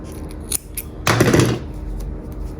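Scissors snip through crochet yarn, a short sharp cut up close followed by a longer crisp shearing rasp, with no voices.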